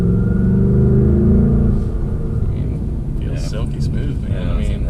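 A 2024 Mustang GT base with a six-speed manual revs loudly up and down nearby, its deep rumbling engine note rising and then easing off while people talk over it.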